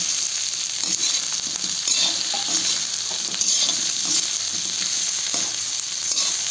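Continuous close sizzle of chicken frying in a pan, with occasional soft stirring knocks underneath.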